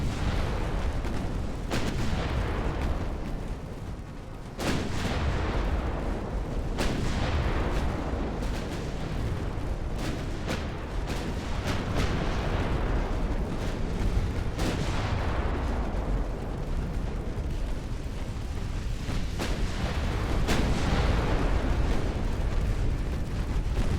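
Naval guns on 1890-era warships fire in Ultimate Admiral: Dreadnoughts, a continuous barrage of heavy booms and sharp reports, some close and loud, others rolling and overlapping, with no pause in the bombardment.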